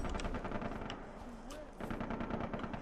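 Rapid bursts of gunfire in the video game Far Cry 3 crackle in quick succession, with a short pause midway before the shooting resumes.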